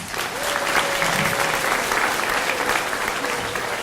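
An audience at a school event claps for the dads on Take Your Child to School Day. The steady, full applause fills the room evenly for several seconds, with faint voices mixed underneath.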